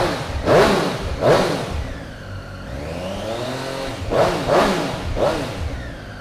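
A Triumph Street Triple 765R Low Ride Height Edition motorcycle engine idles between sharp throttle blips, with two quick revs, a lull, then three more rising bursts, all close and loud.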